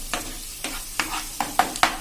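Red and green chillies fry in a hot oil tempering for dal pakwan, giving a steady sizzle broken by six rhythmic spoon scrapes against the pan, close and clear, with no voices.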